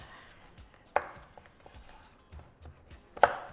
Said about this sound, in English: I'm gonna chop this as well.